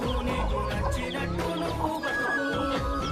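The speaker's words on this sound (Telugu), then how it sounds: "ఆగా కోళ్ళు అడ్డం వచ్చింది కోళ్ళు అడ్డం" Chickens clucking close by in a village yard, a busy overlapping run of short clucks and calls from several birds.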